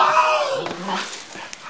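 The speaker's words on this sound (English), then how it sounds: "Good dog, stop it!" A cartoon dog whimpers and yips in high, wavering cries for under two seconds, close and fairly loud, with voices mixed in.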